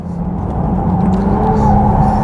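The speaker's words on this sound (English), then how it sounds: "That 6 litre W12 feels pretty powerful." A 6-litre W12 Bentley Bacalar runs on a track with a steady, close engine drone and rumble that rises slightly in loudness, with no talk over it.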